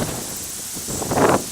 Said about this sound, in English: Sorry about the wind, I'm kind of standing out here in the open